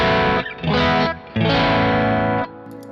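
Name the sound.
electric guitar through Kemper Profiler drive, tone shaping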